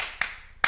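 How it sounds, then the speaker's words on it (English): Two sharp hand claps about half a second apart, close and crisp with a quiet pause between them, in a casual podcast setting. "when you clap like this, and you try to clap off"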